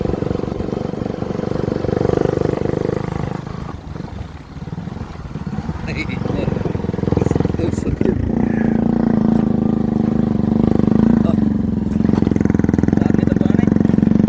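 A motorcycle engine runs steadily and loudly up close for the whole stretch, with rough, clattering texture and small shifts in revs.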